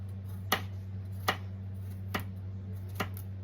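Knife cutting butternut squash into even cubes on a board: four evenly spaced sharp chops, close and moderately soft, over a steady low hum.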